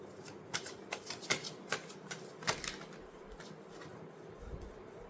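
Tarot cards being shuffled by hand, sticking together: a series of soft, quick riffling flicks and taps, close and quiet, bunched early then thinning out, with no talk.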